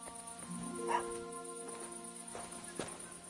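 A dog whimpers and whines in high, wavering tones in the video game Kingdom Come: Deliverance 2, close by, over a faint steady background hum.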